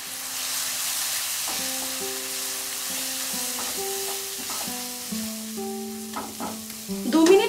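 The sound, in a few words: spice paste frying and being stirred with water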